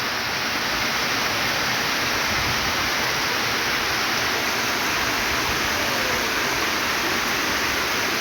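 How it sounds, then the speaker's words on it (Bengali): Heavy rain pours steadily outside a home balcony during a flood-soaked day, a dense, unbroken hiss filling the whole stretch without a pause or voice. "কি পরিমাণ বৃষ্টি!"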